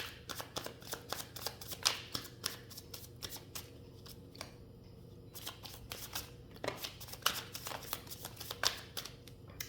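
Tarot cards being shuffled close by for a reading, with continuous riffling and flicking bursts in a quick, uneven rhythm over a faint background hum.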